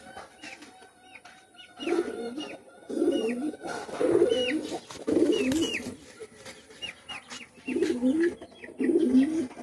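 Pigeons of a Pakistani master bloodline, kept as pet birds, cooing close by in repeated deep rolling phrases, several overlapping calls with short gaps between bursts, no talking.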